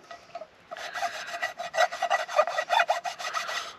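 Rhythmic scrubbing of a soot-blackened camping item with sand outdoors, a steady series of close, gritty rasping strokes after a brief quiet start, with no talking.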